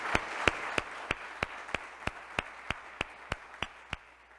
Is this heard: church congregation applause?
yes